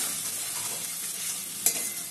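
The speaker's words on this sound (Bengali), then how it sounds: "ভালো করে আমি নেড়ে চেড়ে কষিয়ে নেবো মশলাটা" Spice paste frying in a pan and being stirred steadily, a soft constant sizzle with scraping strokes and one sharp clack of the utensil near the end.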